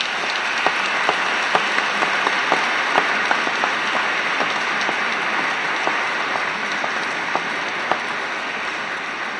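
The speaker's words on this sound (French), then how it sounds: "Je pense qu'on peut applaudir ces différents jubilaires." Church congregation applauding jubilarian priests at a Chrism Mass, steady dense clapping throughout with a few sharper claps standing out, moderately loud and even with no talk.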